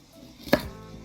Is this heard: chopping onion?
yes